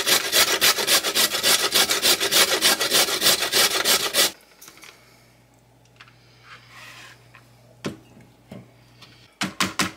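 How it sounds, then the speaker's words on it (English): Carrots grated by hand on a grater, a fast run of loud rhythmic scraping strokes for about four seconds, then a quiet pause, then a few more strokes at the end. "now that my carrots have been cleaned up, I'm going to go ahead and grate them"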